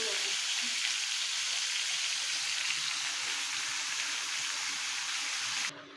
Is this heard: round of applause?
no